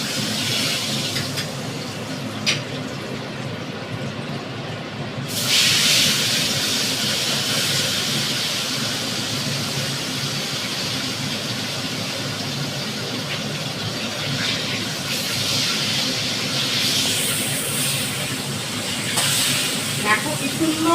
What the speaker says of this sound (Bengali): দেখো কি সুন্দর করে ভেজে ভেজে আমি তুলছি